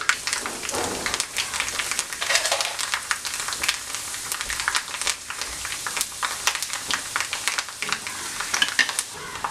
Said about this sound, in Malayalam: എണ്ണ ചൂടായി വന്നിട്ടുണ്ട്. അതിലേക്ക് 1/2 ടീസ്പൂൺ കടുകിട്ട് കൊടുക്കാം.